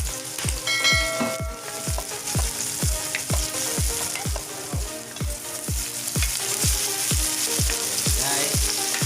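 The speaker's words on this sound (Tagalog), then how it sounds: "Ilunod natin ang sibuyas. Ilunod natin ang sili." Onion and chili sizzle in a hot pan while a utensil scrapes and stirs in a steady, regular rhythm, close and continuous.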